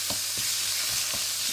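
Meat filling sizzles in a hot pan while a wooden spoon stirs it, giving a steady frying hiss with a few soft scraping strokes spaced through it.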